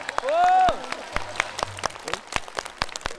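On a folk music TV show, a short sung vocal note comes first, then scattered, uneven claps from a studio audience, sparse and fairly close, with some talking mixed in.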